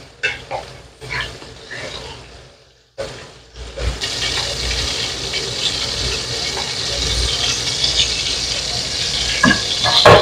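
Garlic, ginger and galangal dropped into hot oil for sambal goreng udang cabe ijo, bursting into a loud, steady sizzle after a few quieter clatters, frying continuously close up with no talk.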